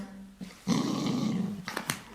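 A dog growls as a warning: a low, rumbling growl rises after a brief quiet, holds steadily for about a second, then breaks into a couple of sharper snarling bursts, close and alone.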